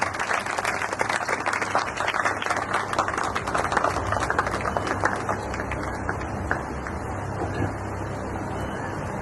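Audience applause at a gathering honoring a teacher, where a former student dedicates a book; dense, steady clapping fills the whole stretch at moderate loudness, with no voices over it.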